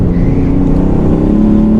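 A modified 290 bhp Ford Fiesta ST Mk8, with a 3-cylinder engine and hybrid turbo, accelerates hard on a race track. The engine drone is loud, close and steady and rises slowly in pitch, with no talk over it.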